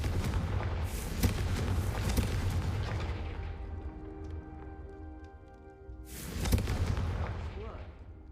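Fiery Confringo spell blasts in a wizarding video game: a loud booming burst rumbles for the first few seconds, fades into a ringing tail, then a second heavy explosion hits near the end.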